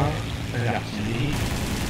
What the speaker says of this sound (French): Là, l'artillerie.